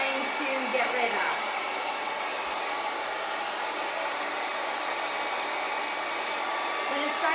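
A hair dryer blows on high speed at medium heat while drying short wavy hair, with a steady, close airflow roar throughout and occasional faint brushing or handling noises.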